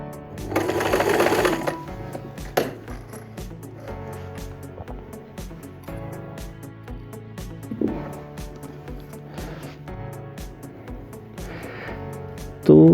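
A Brother R7 sewing machine stitches a fine zigzag in steady runs of rapid mechanical clatter, pausing briefly between bursts, heard up close and moderately quiet.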